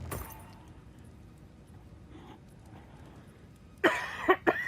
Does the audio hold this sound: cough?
yes